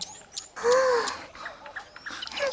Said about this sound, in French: ça, c'est un roselin.